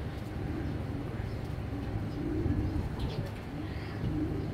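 Racing and show pigeons cooing in a loft, a steady low murmur of overlapping coos with a few faint chirps close by.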